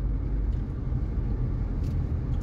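A 2024 Hyundai Creta facelift diesel automatic accelerates, a steady, dense low engine drone with road rumble, heard from inside the car with no talk.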